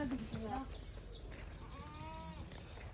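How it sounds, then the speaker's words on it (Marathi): Lambs, goats and sheep crowded in a pen call out in a few wavering bleats near the start and a longer drawn-out cry later, over a low murmur of farmyard noise and some people talking. "हे पहा ना किती कोकरं आहे, शेळ्या आहे, बकरे आहे"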